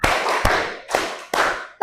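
Secondary school students clap together in a classroom, sounding as several loud, evenly spaced group claps with short gaps between them. A voice calls out briefly at the very end.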